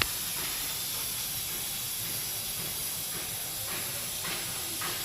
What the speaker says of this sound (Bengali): বেশ অনেকটা তেল দিচ্ছি মজার সাথে অনেকটা আলু ভাজা